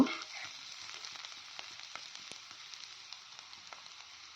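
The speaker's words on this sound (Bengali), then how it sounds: "সবজিটা কিছুক্ষণ ভেজে নিলাম।" Vegetables fry in a pan with a faint, even sizzle and scattered small pops and ticks, quiet and unbroken by talking for a few seconds.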